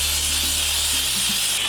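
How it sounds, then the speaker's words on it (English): A handheld steamer blasts a steady, loud, close hiss while cleaning the soles of Jordan 4 sneakers, continuous without breaks and with no talking. "the best way to clean the bottoms before actually cleaning them is to use the handy dandy steamer"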